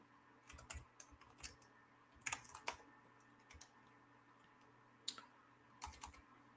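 Bursts of typing on a computer keyboard, close and fairly quiet, with clusters of key clicks separated by short pauses against a low background hum, and no voices.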